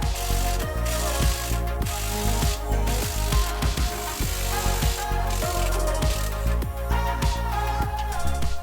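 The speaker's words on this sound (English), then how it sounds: "These are going to be those T50s we were talking about. We're going to go ahead and start loosening those up." A ratchet wrench loosens T50 bolts on a Jeep JL Wrangler transfer case, repeated close pawl clicking in quick back-and-forth strokes, loud and steady with brief pauses between bursts.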